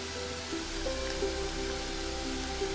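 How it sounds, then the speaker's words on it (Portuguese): Steady outdoor rain falls in a muddy riverside area of forest, a continuous even hiss at moderate distance with no voices. "tá chovendo"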